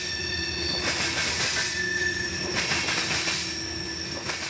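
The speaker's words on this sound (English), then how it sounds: "follow this Proviso, Illinois-bound train up the S-line a ways" Freight train bound for Proviso, Illinois, passing Sandler Junction in Central Florida; steady nearby rumble of rolling railcars with high, sustained wheel squeal and intermittent clatter throughout, no voices.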